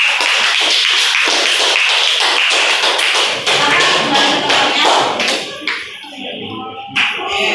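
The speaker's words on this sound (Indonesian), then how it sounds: "Kita kasih tepuk tangan untuk kelompok" Students in a classroom clap for a presenting group, beginning with sharp, rhythmic, close-up claps that later thin into scattered taps and shuffling.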